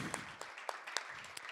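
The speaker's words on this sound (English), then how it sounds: "please clap it up for everybody who's touched the stage tonight" Audience applause at a small live spoken-word and music show in a loft, quiet, scattered claps with a few sharper individual hits, fairly distant and faint.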